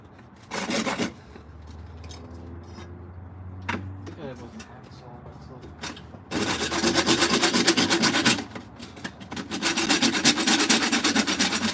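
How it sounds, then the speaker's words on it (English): A hand saw rasps through PVC pipe in uneven strokes, loud and close, with brief pauses and longer steady cutting toward the end. "The good thing about PVC is it cuts very, very easily with a saw."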